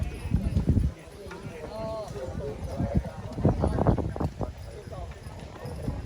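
Draft horses strain against a 10,000-pound load at a horse pull competition, hooves clopping and thudding in an irregular burst amid crowd chatter and an announcer's voice.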